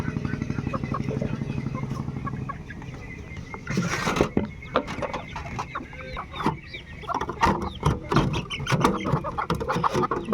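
Laying hens clucking near the mic in a rural yard, rapid repeated clucks at first, then scattered squawks and scuffles mixed with talking voices.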